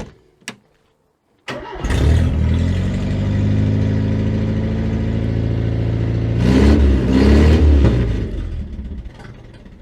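A 1975 Citroen D Super 5 engine cranks after a couple of short clicks, catches and runs, settling into a loud, close idle with a rev partway through before it stalls and dies on its own. The car has no exhaust fitted.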